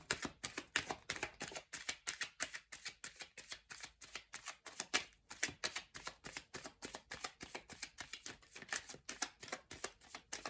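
Rapid, crisp riffling of a deck of tarot cards being shuffled, a steady run of papery flutters with brief pauses, close and alone.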